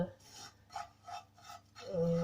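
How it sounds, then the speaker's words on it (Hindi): Dry ingredients for a homemade weight-loss drink being stirred and roasted in a dry pan, giving a few rhythmic scraping, rasping strokes close up and fairly quiet. "तो हमने इसको अब हल्का हल्का भून रहे हैं।"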